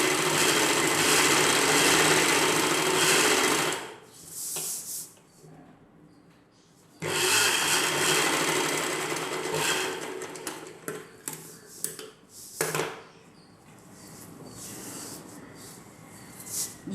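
A sewing machine stitches a lining piece to an umbrella dress along its tucks, running in steady whirring bursts with pauses between and some faint handling noise.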